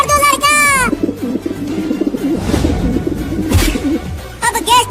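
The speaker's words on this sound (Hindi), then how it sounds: "अरे कबूतर की आवाज आ रही है इस भगोने के अंदर से।" A fat pigeon trapped under an upturned cooking pot in a kitchen coos in low, muffled bursts, mixed in with a voice and other chatter that come and go throughout.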